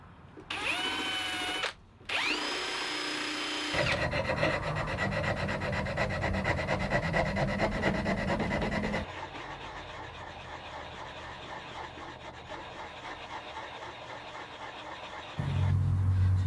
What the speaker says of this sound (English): I grabbed my homemade rolling pin sander to help me shape the volute